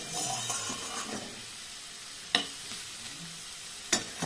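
A dried fish masala is stir-fried in a pan, giving a soft, continuous sizzle close by, with two sharp spatula scrapes against the pan standing out at moderate loudness.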